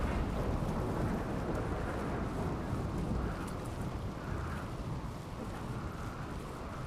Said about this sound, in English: the gang are awoken by a loud thunderstorm